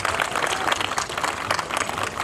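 A crowd claps at a kabaddi prize distribution ceremony, a dense continuous patter of many hands at moderate distance, sustained evenly through the short stretch.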